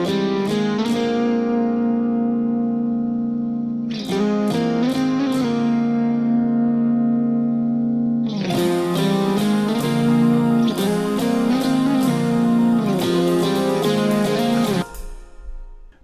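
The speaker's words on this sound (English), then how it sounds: "it starts off with some guitar, blended acoustics and electrics with this lead patch." Blended acoustic and electric guitars with a lead patch play sustained, ringing melodic phrases in three sections, each opening with bright strummed attacks, full and close with no talking.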